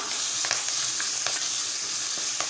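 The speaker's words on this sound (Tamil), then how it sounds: "எல்லாமே தாளித்து ரெடியாகட்டும் கலந்து விட்டுப்போம்" Grated ginger and curry leaves sizzle steadily in hot oil in a pan while a spoon scrapes and stirs in several distinct strokes, the frying hiss dense and close with no voices.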